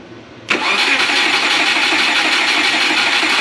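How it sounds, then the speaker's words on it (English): A car engine, just back after an ECU update, cranks and catches with a sudden loud onset, then settles into a steady, close, even idle that holds to the end. "I should be able to start it from this switch here."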